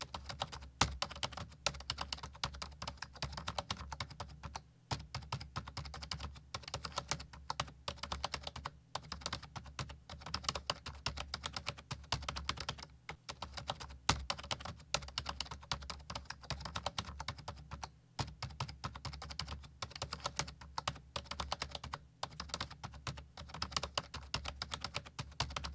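Steady, rapid typing on a computer keyboard as a message is written, with dense clicking keystrokes running throughout and only brief pauses.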